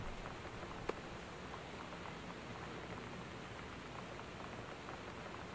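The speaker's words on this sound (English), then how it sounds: "it's raining outside my house for real" Rain falls outside a house, a soft, even hiss of drops on surfaces, faint and continuous with one brief tap early on.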